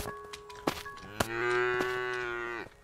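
A cow in the video game Craftopia gives a long, loud moo after a couple of sharp clicks or thuds, the low call sustained for over a second.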